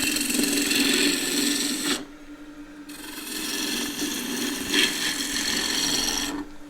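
A big gouge cutting wood on a lathe gives a coarse, rasping scrape in bursts, loud then dropping away briefly before picking up again, close by with no voices.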